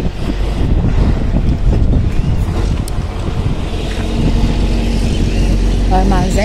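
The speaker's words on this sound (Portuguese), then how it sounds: "E o vento e o tempo tá bem gostoso, tá ventando bastante" Strong wind buffets the microphone outdoors on a farm, a loud continuous roar and rumble throughout, with faint voices and other sounds partly buried beneath it.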